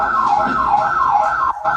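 A loud alarm wails in repeating rising-and-falling electronic sweeps like a siren, close and continuous, with a brief dropout near the end and no voices.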